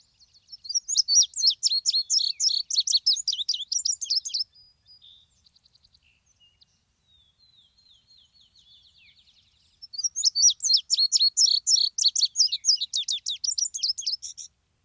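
Small woodland bird singing along an open woodland trail in eastern North America in early May: two loud bursts of rapid, high chirping phrases at the start and end, with quieter, sparse calls in between.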